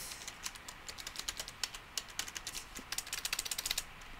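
Rapid, uneven typing on a computer keyboard during a Minecraft session, with a steady stream of close, crisp key clicks in quick bursts and no talking.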